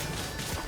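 A Geo attack smash in Genshin Impact, a short dense crashing impact that fills under a second of loud, thick noise.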